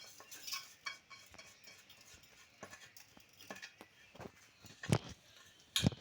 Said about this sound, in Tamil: நல்லா கொஞ்ச நேரம் ஃப்ரை பண்ணுவோம்.